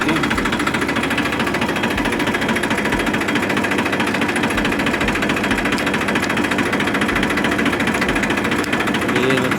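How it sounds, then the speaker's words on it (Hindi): A tractor engine idles steadily nearby after starting, a continuous chugging rumble with faint mechanical rattle, and no voices over it. "ये हो गया तुम्हारे भाई का ट्रैक्टर स्टार्ट।"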